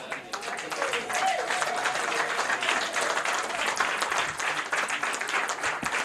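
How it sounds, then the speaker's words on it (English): Audience at a membership month launch event gives sustained applause, many hands clapping densely and steadily throughout, with some voices mixed in beneath the clapping. "I'd like everyone to first stand up and give a big hand clap to these people."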